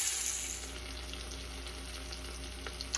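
Venison browning in a pot for deer tacos, a steady soft sizzle and frying crackle throughout with a few brief pops near the end, close and fairly quiet.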